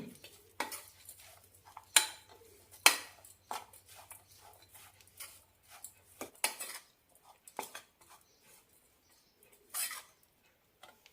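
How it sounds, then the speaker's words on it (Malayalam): Rice flour and gram flour mixed in a bowl with a spoon for egg vada, quiet separated clinks and scrapes of metal against the bowl, irregular and close. "ഒരു ടീസ്പൂൺ അരിപ്പൊടി രണ്ട് ടേബിൾ സ്പൂൺ കടലമാവ് നന്നായി മിക്സ് ചെയ്യാം"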